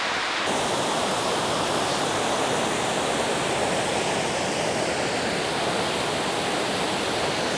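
A waterfall roars steadily, a dense, loud rush of falling water filling the scene without a break.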